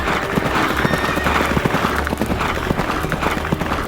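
Many horses of a fifteenth-century duke's cavalry gallop in a dense, steady clip-clop, with a whinny rising over the hooves, loud and continuous throughout.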